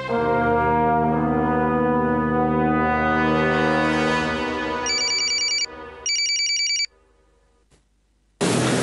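A telephone rings with a sustained electronic tone for about four seconds, then gives two short bursts of a brighter trilling ring. A final burst starts after a brief silence.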